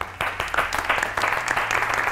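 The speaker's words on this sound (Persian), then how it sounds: "اگر دوست داشته باشین خودتان را تشویق کنید" A studio audience at a televised quiz show applauds in a dense, steady patter of clapping that rises and falls briefly, with no talk over it.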